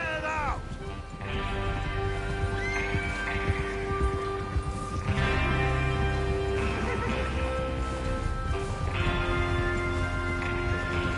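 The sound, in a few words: horses neighing and trotting in video game Red Dead Redemption 2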